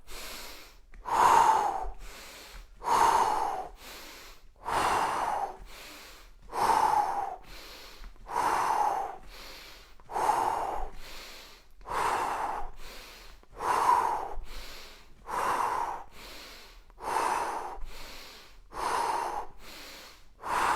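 Steady rhythmic breathing during a home workout, about a dozen evenly spaced inhales and exhales, close and fairly quiet, with sharp nasal snort-like edges and no talking.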